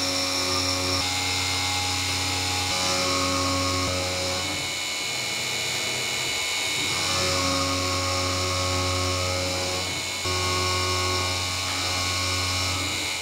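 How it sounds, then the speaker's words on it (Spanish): CNC milling of a thin workpiece with an 8 mm three-flute carbide end mill, a loud steady whine with strong tonal hum and spindle harmonics running continuously throughout, with no voices. "La que estáis viendo ahora mismo es una fresa de 8 milímetros de 3 labios de carburo de Afilado Soriano"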